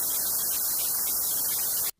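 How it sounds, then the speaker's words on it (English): White noise from a Pro Tools signal generator hisses as a loud, even, full-band wash for about two seconds before cutting off abruptly to silence. "what you heard there was the white noise."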